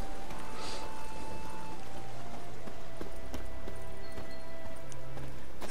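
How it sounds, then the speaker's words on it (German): Horse hooves clop steadily in The Witcher 3: Wild Hunt beneath a dense, constant wash of background noise, with faint tonal sounds drifting over the top. "So, wir haben hier ein Pferd."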